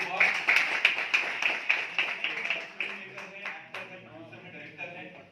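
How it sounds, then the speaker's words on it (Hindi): Scattered clapping from an audience at the Bettiah International Film Festival, a dozen or so distinct claps in an uneven rhythm that thin out and fade, with someone speaking over them. "इनके लिए ताली बजाएंगे"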